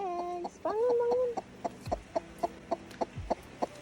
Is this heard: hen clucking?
yes